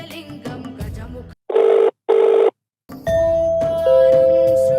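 A telephone rings in two loud, evenly spaced bursts, then falls silent before steady tones and scattered background sounds return.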